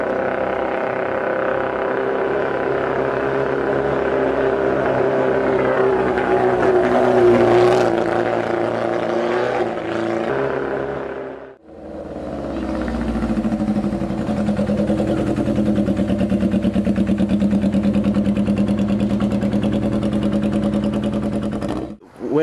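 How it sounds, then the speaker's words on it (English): A custom rocket-style motorbike engine revs and rumbles as it is ridden, its pitch rising and falling through throttle blips. The sound cuts out briefly near the middle, then returns as a steady, close drone with no talking. "I asked him if he wouldn't mind taking one of his bikes for a spin to show us"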